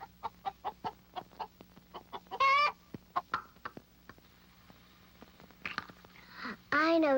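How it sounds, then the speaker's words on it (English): Hens cluck in a quick, regular string of short, clipped notes, broken by a couple of louder squawks nearby. "Hens cluck."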